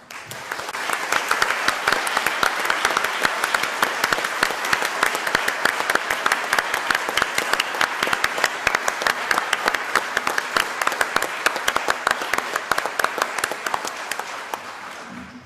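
Sustained applause from an academic conference audience, many distinct hand claps pattering densely and evenly for the full stretch, moderately loud and without talk.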